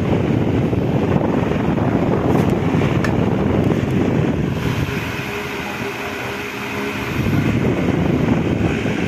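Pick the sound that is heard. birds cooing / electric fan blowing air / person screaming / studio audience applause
electric fan blowing air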